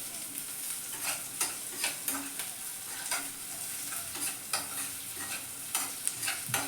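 Onions frying for baby corn Manchurian, stirred in a pan: a steady close sizzle broken by repeated scraping strokes of the spoon every second or so, with no talk.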